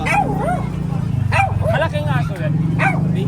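Beagle dog barking and yipping in several excited, howl-like bursts, loud and close, with people talking in the background.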